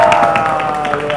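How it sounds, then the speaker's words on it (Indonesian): School team A claps and cheers at a high-school quiz contest in a TV studio, loud and steady applause from a group under a sustained tonal hum. "kelompok A mana tepuk tangannya dong?"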